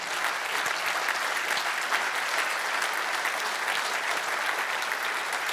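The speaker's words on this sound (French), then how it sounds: "vous pouvez vous applaudir, et largement" Dense, steady applause from a party audience at a cdH political speech in January 2019, loud and continuous for the whole stretch with no voice over it.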